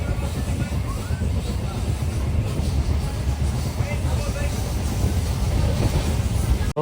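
A DEMU passenger train on the Tiruvannamalai to Tirupati route rumbles along in a steady, loud, low roar. Faint murmur of passengers is heard over the constant rolling noise.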